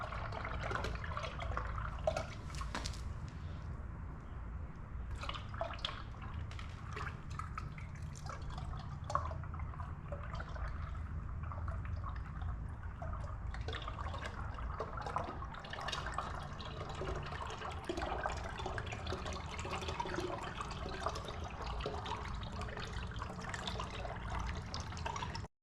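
CVT fluid from a Mitsubishi Outlander at 26,000 miles dripping and trickling into a pan, a faint, continuous splattery flow with no talk.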